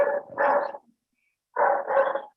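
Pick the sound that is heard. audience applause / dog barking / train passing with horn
dog barking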